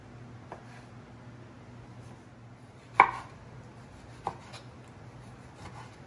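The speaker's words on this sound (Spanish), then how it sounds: "ya terminando de cortar las naranjas" A knife cuts oranges on a board for orange jam, giving a couple of soft, sparse chopping thuds over a steady low background hum.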